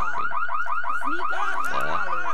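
In The Sims 3, a house burglar alarm blares: a loud, fast warbling electronic tone cycling up and down continuously, close and dominant, with a short squeaky chirp and a brief voice-like sound underneath.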